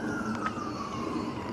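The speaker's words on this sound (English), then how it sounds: "wherever you go there's ambulances and fire trucks going all over the place" A distant emergency siren, from an ambulance or fire truck, drifts through a quiet outdoor morning as a faint, steady wail under low ambient noise.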